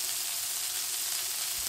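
Steak sizzles steadily in a hot pan for steak au poivre, a dense, even, close hiss of frying with no pauses and no voices.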